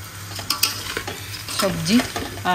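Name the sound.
rice being stirred in a pot for pulao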